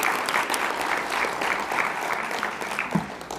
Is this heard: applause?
yes